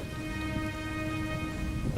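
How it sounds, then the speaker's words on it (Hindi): Steady rain pours down in a cartoon scene, a dense, even hiss with faint sustained tones in the background and no voices. "अरे बेटी, देखो बारिश अच्छी हो गई है"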